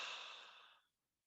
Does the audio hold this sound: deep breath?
yes